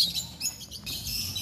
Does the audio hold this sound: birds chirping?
yes